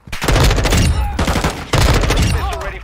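Assault rifle firing in the Modern Warfare 2 video game, heard as two loud sustained automatic bursts with a short pause between them, close and dominant.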